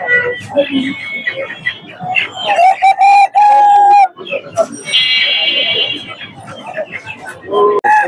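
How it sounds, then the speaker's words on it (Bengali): Silkie chickens cluck and a rooster crows close by amid busy market chatter from several people talking, at a fancy chicken market. "দেখতে পাচ্ছেন খুব সুন্দর সুন্দর কিছু সিল্কি মুরগি"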